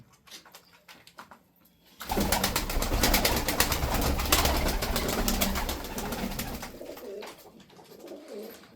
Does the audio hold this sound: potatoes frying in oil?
no